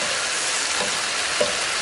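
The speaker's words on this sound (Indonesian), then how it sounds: "Kemudian setelah ini kita akan aduk, biarkan semua bahan dan bumbu tercampur rata." Ingredients stir-fried with soy sauce sizzle steadily in a pan, a dense continuous hiss with a brief clatter of stirring near the end, no voices.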